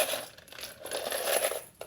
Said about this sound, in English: I'm going to put 25 of these in a cup, and I'm going to roll them.